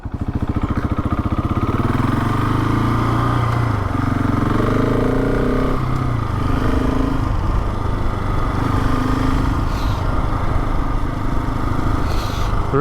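A motorcycle engine runs steadily close by as the bike turns around, a loud, continuous mid-pitched drone with slight shifts in pitch and no speech.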